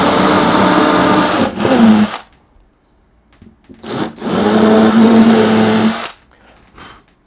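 A power drill fitted with a 1.5mm bit bores through a wooden board for a TT:120 model railway baseboard, two loud whining bursts of about two and four seconds separated by a short quiet gap.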